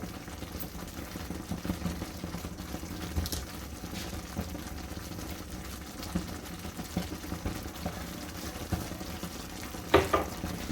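Ghee with dry ginger powder and white pepper cooks in a pan, giving off a faint, steady sizzle and low bubbling throughout, with an occasional light scrape near the end.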